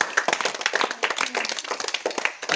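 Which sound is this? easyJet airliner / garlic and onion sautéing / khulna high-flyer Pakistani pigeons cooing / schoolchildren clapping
schoolchildren clapping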